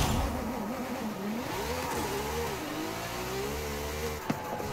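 A twin-turbocharged Racing V12 in a rear-wheel-drive Lamborghini Super Trofeo race car in Forza Horizon 5 revs steadily, pitch rising and falling through gear changes, with a brief sharp pop near the end.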